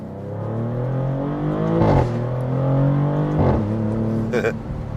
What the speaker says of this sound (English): I should have went instead of revving the engine